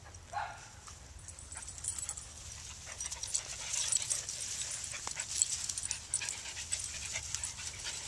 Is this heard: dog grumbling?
yes